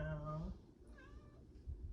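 A cat meows once, a drawn-out harmonic cry near the microphone, followed by quieter rustling and a faint second murmur.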